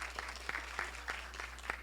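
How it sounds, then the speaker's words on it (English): An audience claps at a film festival opening night, a short burst of scattered hand claps with distinct individual slaps, moderately close and fairly thin. "Give her a round of applause."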